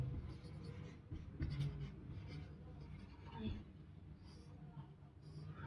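Pen or pencil writing by hand during a Sanskrit class lesson, a faint scratchy scribble running under steady room noise and occasional low voices.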